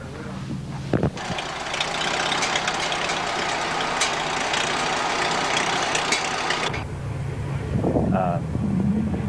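An old tractor at a 1994 Red Power Roundup show starts with a sharp crank, then runs loudly at a steady rough idle for several seconds before the engine note drops away near the end.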